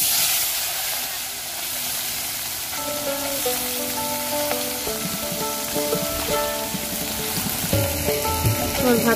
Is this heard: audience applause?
no